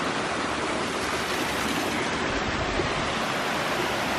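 The Srebarstruy waterfall roars in a constant, dense rush of falling water, close and unbroken, with no voices over it.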